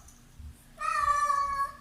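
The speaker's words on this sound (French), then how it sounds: "Ça, c'était le chat à mon ami, Nicolas." A cat named Mammouth gives a single drawn-out meow, close and fairly loud, after a quiet pause with faint background rumble.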